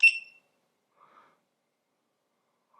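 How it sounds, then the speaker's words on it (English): A single short, sharp electronic beep from a GoPro Hero 7 Black at the very start, followed by near silence and a faint soft blip. "definitely a pretty solid beep"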